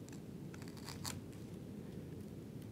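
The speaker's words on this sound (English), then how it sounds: "So I can probably do that with this 1-inch chisel." A 1-inch wood chisel pares a cut in wood, giving a few brief, faint scraping slices over a low steady hum.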